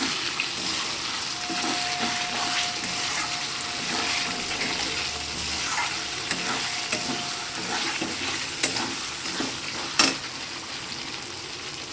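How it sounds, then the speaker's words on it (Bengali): Grated tomato sautéing in a hot pan for a vegetarian paneer and potol dish, a continuous close sizzle with intermittent spoon stirs and scrapes and a faint background tone. "টমেটোটা দেওয়ার পরে একটুখানি কষিয়ে নেব, যাতে টমেটোটা সেদ্ধ হয়ে যায়।"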